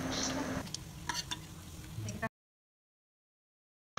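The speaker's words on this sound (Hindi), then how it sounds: "बिल्कुल वैसे ही हमें इसे तल लेना है।" Semolina being fried and stirred in a pan makes a close, steady sizzle with scraping stirs and small clicks for about two seconds, then cuts to silence.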